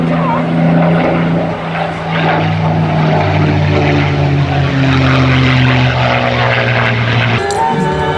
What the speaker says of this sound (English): Well, as Nigel brings the Spitfire back in front of you for the next pass